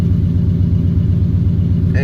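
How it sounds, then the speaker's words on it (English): A 1995 GMC 1500 pickup's engine idling steadily just after starting, a loud, close, even low rumble with no stumbling, while someone talks over it. "Started up pretty easy, and it doesn't seem to be bogging down like it was."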